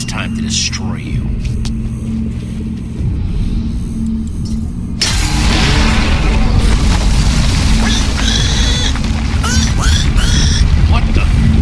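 A command block smashed apart in Minecraft Story Mode, a sudden loud booming crash that swells into a sustained, rumbling roar of destruction layered with game effects.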